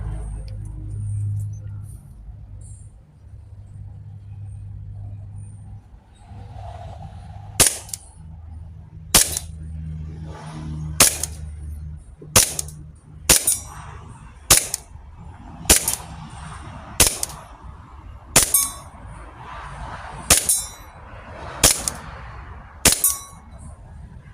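Bell M1911 BB pistol firing at a target 10 metres away: about a dozen sharp, snappy shots at a steady pace, each a crisp crack over quiet background, following a few seconds of low handling noise.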